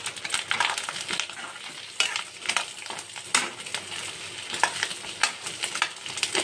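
Green chillies are frying together with egg in a hot pan, producing a steady crackling sizzle broken by the scrape and knock of stirring at irregular moments, close and moderately loud, with no voice over it.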